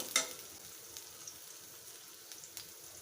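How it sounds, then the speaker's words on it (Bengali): Chopped onion and garlic frying in oil in a pan, a faint, steady sizzle broken by a sharp crackle near the start and a few scattered pops. "ভালোভাবে পেঁয়াজটাকে ব্রাউন কালার হওয়া পর্যন্ত ভেজে নেব।"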